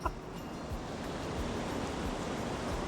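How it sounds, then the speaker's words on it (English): A waterfall in the Sawtooth Wilderness roars as a steady, dense wash of rushing water, close and continuous with no voices over it. "Look at that waterfall."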